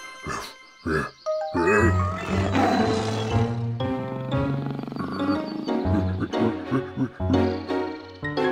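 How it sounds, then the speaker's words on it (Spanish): A cartoon tiger, a character transformed into a tiger while chasing a dog, lets out loud, drawn-out roars and growls over bright background music and effects, with short pauses between bursts. "Un tigre está persiguiendo a mi pobre e inocente perro Barky."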